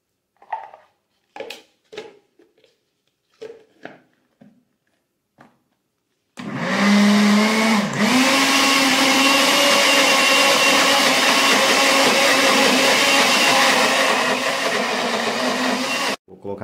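An electric mixer whirs loudly and steadily as it beats eggs into a sausage cake batter, following a few short spoken phrases, then cuts off near the end.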